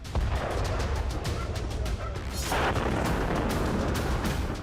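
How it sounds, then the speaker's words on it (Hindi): Russian strikes in Ukraine set off heavy explosions and rumbling blasts, dense and loud with booming low energy, a strong burst roughly midway, continuous with no pauses. "बारूद से यूक्रेन की तबाही का इतिहास गढ़ने वाले ये धमाके अब सामान्य नहीं है"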